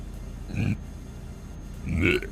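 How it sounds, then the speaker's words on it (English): A person's burp right after eating a corn dog: two low, throaty belches about a second and a half apart, moderately loud and close, with no talk over them. "Oh, sorry, I got another burp."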